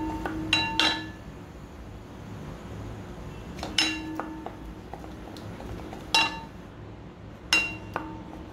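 A spoon stirs jamun barfi mixture in a pan over a gas flame, giving four separate sharp metallic clinks against the pan over a low, steady background hiss.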